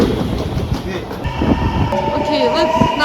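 A train at Jujo station in Kyoto rumbles and clatters steadily at close range, its rolling noise sustained throughout with a rising tone near the end, while people talk quietly over it.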